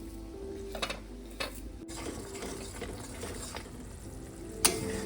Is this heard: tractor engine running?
no